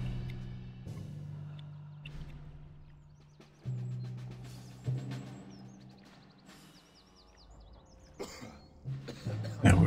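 Return to Castle Wolfenstein game audio with a steady low hum, broken by a few rough coughs from an enemy soldier at mid distance, plus scattered short chirpy effects.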